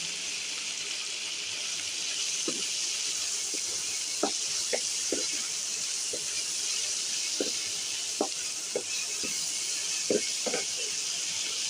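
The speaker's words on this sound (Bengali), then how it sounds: "বরবটি ভর্তা বরবটিটা ভাজা ভাজা হয়ে আসছে" Yardlong beans frying in a pan, with a steady bright hiss and sizzle and scattered small pops and crackles, close and even throughout.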